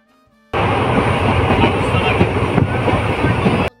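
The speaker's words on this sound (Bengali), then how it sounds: "মাঝে তোমাদের একটু ট্রেনের আওয়াজ শোনাবো।" A passenger train runs steadily on its rails on the way to Baharampur, a loud continuous rumble with clattering wheels heard close from on board, without talk.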